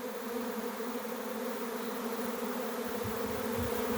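A honeybee swarm buzzes at an apiary, making a dense, continuous hum that stays steady and fairly close throughout, with no voices.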